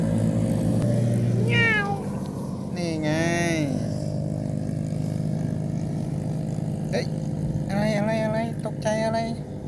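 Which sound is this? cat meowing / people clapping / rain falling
cat meowing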